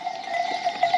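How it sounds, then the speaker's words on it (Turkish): Sheep bleat close by on a farm, a steady nasal call repeating over a second, with faint farmyard noise behind it. "Koyunlar koça gelmeye başladı."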